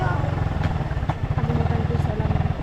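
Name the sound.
motorcycle engine running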